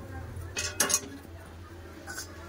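Fried soybeans being tipped out of a pan, heard as a few metallic clinks and scrapes of utensil against cookware, close and fairly faint, over a low room hum.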